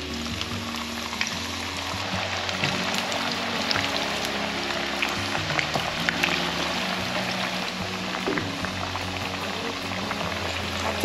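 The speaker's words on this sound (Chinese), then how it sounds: "油热了，可以放进来炸。" Taro pieces deep-frying in hot oil over high heat, a dense, continuous sizzle and bubbling crackle that holds steady and close throughout.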